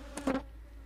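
Defensive African bees brushed into a Kenya top bar hive give a brief, faint buzzing rise lasting well under a second against low background hum.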